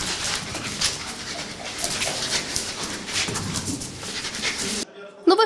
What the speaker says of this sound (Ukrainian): кінолог привів собаку Фіону